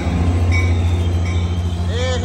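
A Caltrain commuter train rumbles loud and steady at close range at Mountain View station, with a low rolling drone and faint wheel squeals near the end.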